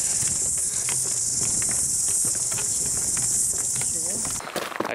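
A loud, unbroken high-pitched insect drone fills the air, with shuffling movement and soft voices underneath, cutting off near the end.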